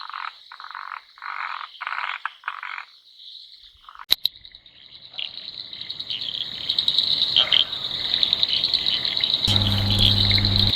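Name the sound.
frogs calling in a chorus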